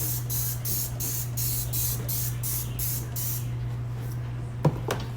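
Dawn Power Wash cleaner is sprayed onto kitchen stove grates in a run of about seven quick, hissing spritzes, followed by a soft knock near the end under a low steady background hum.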